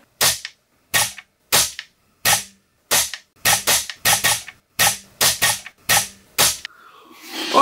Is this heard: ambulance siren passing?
no